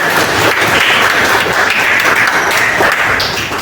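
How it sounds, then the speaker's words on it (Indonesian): Classroom audience applauding a student during an Indonesian-language teaching practice session, a dense, steady wash of clapping filling the whole stretch without pause, close and fairly loud. "tepuk tangan untuk Amel."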